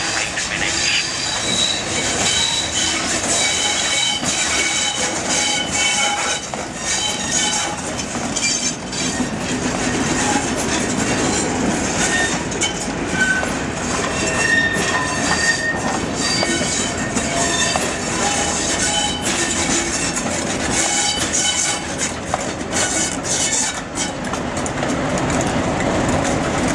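A Southern passenger train rumbles into a station, wheels clattering and squealing as it slows, with a steady mechanical roar throughout and no talking.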